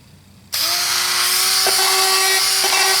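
Ryobi rotary tool switching on and running at high speed, a sudden loud whine that holds steady with a slight pitch wobble, close by with no talking.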